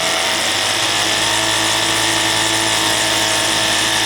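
A live-steam speed-test engine fed by a Scott double-flow boiler at about 8 bar runs steadily, giving a loud, continuous mechanical whir and hiss with no let-up.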